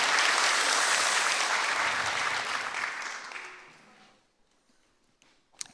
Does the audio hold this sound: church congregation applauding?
yes